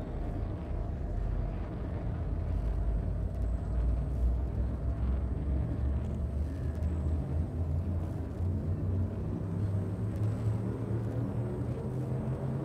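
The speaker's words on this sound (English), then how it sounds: "Frameshift drive charging." A frameshift drive charging aboard a spaceship in a video game, a steady low rumbling hum that holds at an even level for the whole stretch, with a faint high whine above it and no talking.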